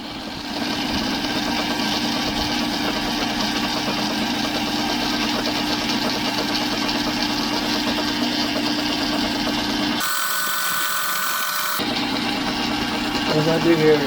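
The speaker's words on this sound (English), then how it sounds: "What I'm going to do here is drill." A drill hums steadily at close range while boring a center hole for a custom-built metal hinge, a continuous motor drone that briefly cuts out near the end, with faint background activity.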